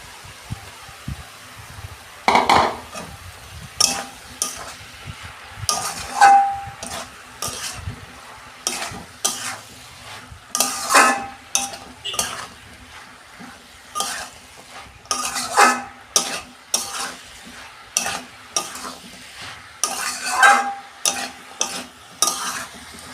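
Vegetables for a cabbage ghonto fry in a pan while being stirred, with repeated rhythmic metal scraping and clanking strokes over a low sizzle, close and fairly loud, with no talking.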